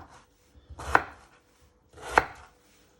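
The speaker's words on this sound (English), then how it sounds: "Always be careful with your fingers, you don't cut them on the sharp knife." A sharp knife cuts through potatoes with two distinct, well-spaced chops against a board, close and clear in an otherwise quiet kitchen.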